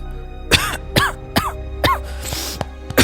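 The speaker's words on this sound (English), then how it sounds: "How long have you had that cough?" A narrator performs a series of harsh coughs during a Poe story reading, about five to six separate bursts spaced roughly half a second apart, close and fairly loud.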